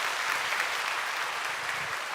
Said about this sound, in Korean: 우리 두 가정 인사하실 때 우리 박수로 축복해 주시기 바랍니다